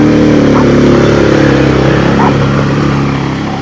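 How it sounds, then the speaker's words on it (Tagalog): A Yamaha NMAX motorcycle crosses a rocky river, its engine a loud, close, steady drone that slowly fades in the final second. "Ayun yung isang motor, yung NMAX."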